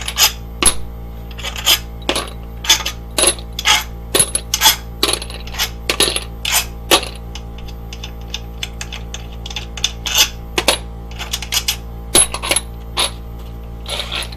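Steel bolts pulled from a BMW engine's cam carrier are dropped and set down one after another, making a long series of sharp metallic clinks and rattles at an uneven pace, close and clear.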